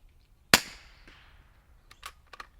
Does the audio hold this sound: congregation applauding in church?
no